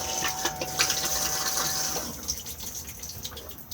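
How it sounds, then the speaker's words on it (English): Cassette toilet in an Adria Adora caravan flushing: a rush of running water with a faint pump whine that stops after about two seconds, leaving a softer trickle and drips. "Push to flush on the top."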